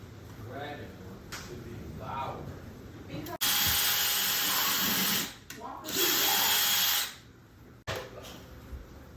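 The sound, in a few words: power drill driving screws into stud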